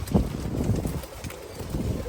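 Pigeons cooing on a farm, soft repeated low coos close by with some shuffling and background noise, no talk.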